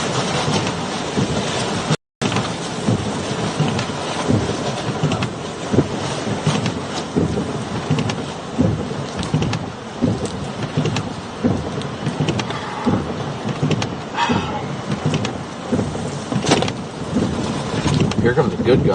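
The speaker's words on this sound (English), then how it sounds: "guys can hear the howling of the winds." Strong hurricane wind from Hurricane Helene's landfall roars and buffets continuously with a rain-like hiss, broken by one brief dropout, loud and close throughout.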